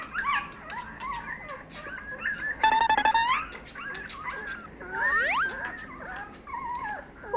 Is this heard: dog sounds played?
yes